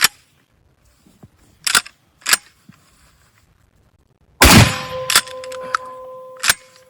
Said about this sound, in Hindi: again miss fire, this is not good